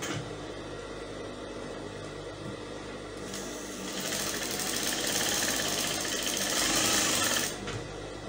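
Sewing machine stitching fabric for a headband, a steady continuous whir that runs throughout and grows louder and busier over the middle stretch before easing back near the end.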